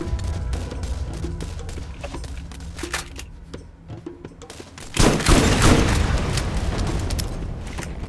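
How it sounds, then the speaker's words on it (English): Shotgun blasts striking a vehicle in Borderlands, a run of sharp gunshots and booms at first, then a loud, sustained burst of explosive crashing noise in the second half, with no speech. "you can hit a vehicle with a shotgun and deal that much damage"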